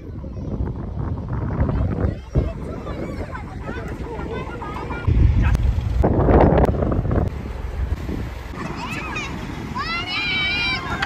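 Boat under way on a river toward the sea, strong wind buffeting and rumbling across the microphone, with gusts building midway, while voices and children chatter nearby.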